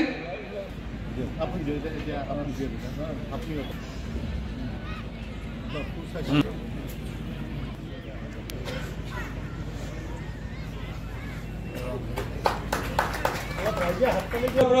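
At a Rabha community annual gathering, scattered applause for guests rises near the end, mostly under continuous amplified speech from a speaker.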